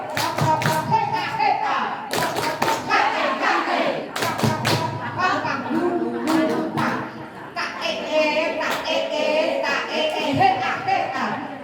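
Students at a school orientation perform the tepuk reog clap chant, chanting together in rhythmic bursts punctuated by sharp group claps and thumps that recur in several clusters throughout.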